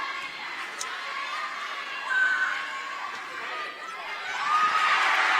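A crowd at a 5A state high school volleyball match keeps up a continuous roar of cheering and shouting, swelling louder near the start and again at the end, with commentary over it.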